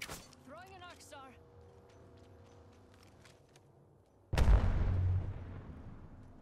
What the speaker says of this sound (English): Throwing an arc star.